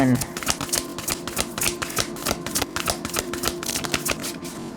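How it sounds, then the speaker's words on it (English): Tarot cards are shuffled by hand in quick, dense bursts of papery riffling and tapping, close and crisp, with a voice talking over the rhythmic card noise. "Give each one 3 shuffles"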